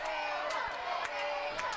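A packed arena crowd at a W3L heavyweight championship wrestling match cheers and roars in a dense, steady wall of noise, with shouts and whistles standing out above it throughout.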